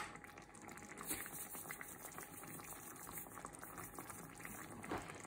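Leek and chicken pie filling with cream simmering on low heat in a pan, a faint, steady bubbling and sizzling hiss with no talking.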